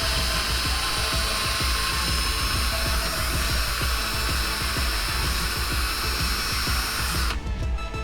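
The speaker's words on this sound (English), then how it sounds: "So I can remove it with the drill" A power drill runs continuously and loudly, spinning out bolts during a room renovation, a steady high whine with a heavy grinding rumble that cuts off abruptly near the end, with no voices.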